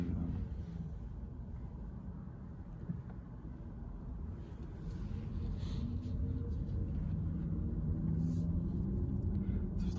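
Volkswagen ID.3 1st Max electric car on a road test, heard from inside the cabin: a steady low road rumble with wind hiss that swells slightly as it continues. There is no engine note.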